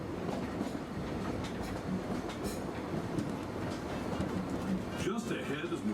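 A Disneyland Railroad train rumbles steadily along its rails, a continuous low clatter and roll heard from on board, with faint voices and a brief tonal squeal near the end.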